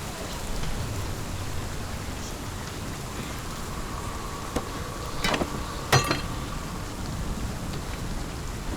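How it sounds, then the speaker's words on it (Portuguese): Steady rain falls in the Hellblade: Senua's Sacrifice video game, a constant dense hiss with a few brief sharper splashes midway, heard alone without talk. "O barulho da chuva é bem gostosinho."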